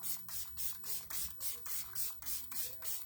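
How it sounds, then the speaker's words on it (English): Time Locker makeup setting spray misted in a steady series of about ten short, even bursts, close and clear with no talking. "Then we put on our Time Locker spray."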